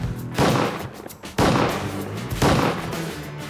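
Three loud shotgun blasts fired in quick succession during a duck hunt in the Mississippi Delta, each a sharp close report followed by a short rumbling echo.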